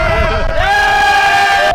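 Roadside crowd cheering at the Tour de France on the Col du Tourmalet at La Mongie, a loud, continuous roar of many voices with sustained shouting and a rising horn-like tone, close and dense throughout.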